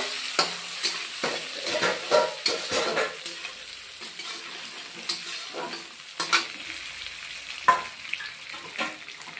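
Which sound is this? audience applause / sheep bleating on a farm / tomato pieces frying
tomato pieces frying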